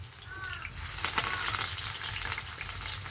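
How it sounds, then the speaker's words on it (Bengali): Onion and garlic frying in a pan for a mixed greens dish, a close crackling sizzle that swells after a quieter start, with a few stirring scrapes and no talk. "বেশি ভাজবো না পেঁয়াজ রসুন,"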